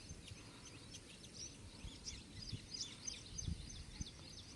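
Faint, scattered bird chirps and tweets in the distance over a low outdoor rumble in a village pomegranate garden, with no voices.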